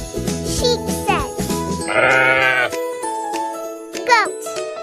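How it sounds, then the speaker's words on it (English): A sheep bleats in one loud, wavering call over a jingly children's tune, framed by brief sung or spoken voices. "Sheep. Sheep says."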